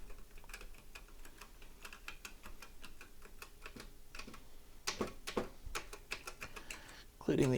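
Clicking keystrokes on a TI-99/4A computer keyboard with faulty, unresponsive keys: a steady run of close, crisp taps, then a denser burst of harder clicks and a short louder clatter at the end.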